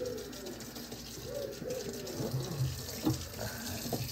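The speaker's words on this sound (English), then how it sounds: "Just rinsing my hands quick" A tap runs steadily while hands are rinsed beneath it after cleaning squid, a close, moderate splashing stream with no speech.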